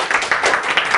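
A short burst of audience applause in a classroom-style session, a brief flurry of several claps, fairly close and clear.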